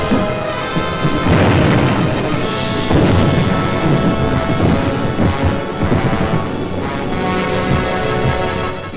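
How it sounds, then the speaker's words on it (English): Firebombs bursting over wartime London in a 1943 documentary film, a dense barrage of loud booms and crashes layered with crackling and rumbling, heavy and continuous throughout with no talk. "Millions of firebombs rained down on the great city of London."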